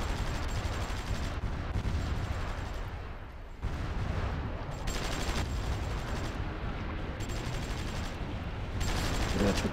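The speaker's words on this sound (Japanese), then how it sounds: "うわ、ミサイル撃ってきやがった。" Missiles and gunfire strike units during a battle in the strategy video game Supreme Ruler 2020, a dense, continuous barrage of booming blasts and crackling fire that surges and dips several times, fairly distant and with no talk.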